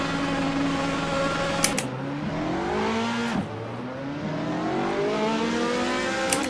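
A race car in a sim racing video game revs through rising and falling engine sweeps, with repeated gear changes and two sharp clicks, loud and close with no talking.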